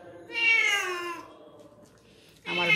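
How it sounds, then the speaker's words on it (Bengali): A cat meows twice nearby in a quiet kitchen, a long drawn-out cry followed after a pause by a second shorter one, both clear and alone. "আমার বিড়াল শব্দ করতেছে।"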